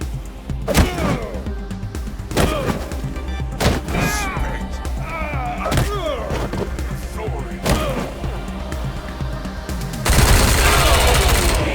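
Gunfire in the Wasteland 3 video game: a series of sharp, loud shots and bursts at irregular intervals, mixed with game effects and brief voice lines, ending in a dense roaring blast.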